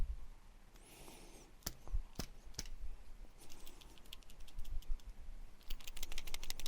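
Plastic parts of a Peugeot 306 GTi-6 gear knob click and scrape as a cover is removed, with a few sharp snaps and a run of rapid small clicks, heard up close against a quiet background.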